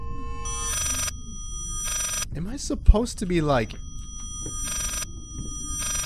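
An old telephone in the horror game Layers of Fear rings in repeated electronic bursts, each about half a second long and evenly spaced. Someone talks briefly in the middle of the ringing.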